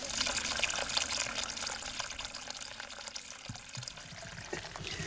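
Water flows steadily from a natural forest spring, a continuous close splashing and trickling rush with no speech.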